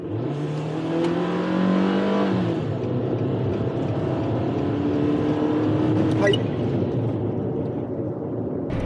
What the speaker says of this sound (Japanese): 今から合流しますんで、40キロから80キロまでフル加速タイム計測してみます。